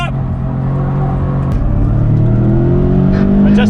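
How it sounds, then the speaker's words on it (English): Subaru BRZ on a race track, engine droning at steady high load, then stumbling briefly as it hits fuel cut around a corner, loud and close with an in-car feel. "I just hit a fuel cut."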